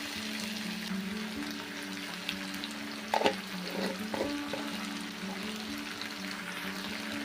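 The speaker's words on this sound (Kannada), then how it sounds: "ಆ ಮಸಾಲ ಕೂಡ ಇದ್ರೊಳಗೆ ಹಾಕಿ ಇದನ್ನು ಸ್ವಲ್ಪ ಚೆಂದಾಗಿ ಫ್ರೈ ಮಾಡ್ಕೊಳ್ಳೋಣ" Freshly ground masala fries in a pan for sprouted green gram curry, giving a steady close sizzle with a few brief stirring scrapes partway through.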